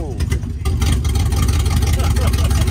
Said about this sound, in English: I think this thing needs a new muffler.